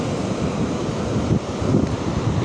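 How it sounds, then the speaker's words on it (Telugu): Strong ocean waves roll onto Suryalanka beach near Bapatla, a steady, loud roar of surf mixed with heavy wind buffeting, continuous throughout with no voices. "బీచ్ దగ్గర అలలు చూడండి. చాలా గట్టిగా వస్తున్నాయి అలలు"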